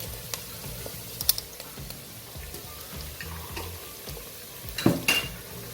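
A spoon stirs spice mix into gari in a pot, giving steady soft scraping and rustling with a few sharper metallic clinks against the pot, fairly quiet and close.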